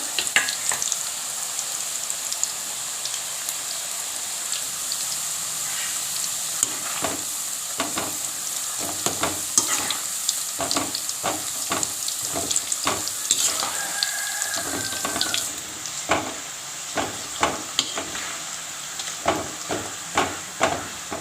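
Thin nendran banana slices fry in coconut oil for chips, a steady close sizzle punctuated by a long run of quick splashy crackles and stirring clatter as pieces drop and move in the oil.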